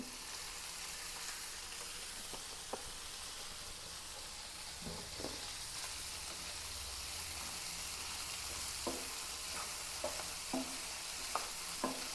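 Coconut oil is poured into a cooking pan and heats up, giving a steady low sizzle with a few sharp stirring clicks scattered throughout, no talking.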